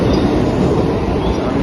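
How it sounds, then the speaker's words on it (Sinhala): A train pulls into a station in Japan, its steady, loud low rumble of wheels and carriage noise filling the whole stretch with no talk over it. "ට්‍රේන් එක නම් එනවා."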